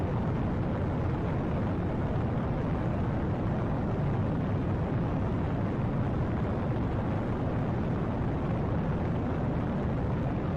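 Rocket launching in a modded Minecraft game, a loud, continuous roaring rumble that holds steady and unbroken for about ten seconds with no talk over it.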